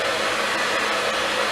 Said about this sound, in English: Turn your blow dryer upward so you're getting a little arch at that root.